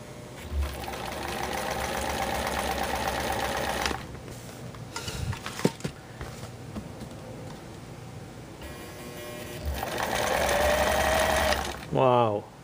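A vintage 1958 Kenmore model 117.841 sewing machine runs in steady whirring bursts, close and fairly loud, with pauses and a brief higher whine near the end.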